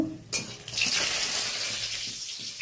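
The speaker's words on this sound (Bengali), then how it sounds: "তেল গরম হয়ে গেছে, বড়িগুলো ভেজে নেব।" Lentil dumplings (bori) dropped into hot oil, a sudden bright sizzle that swells and holds, with a few spoon and pan clatters, close and loud with no talking.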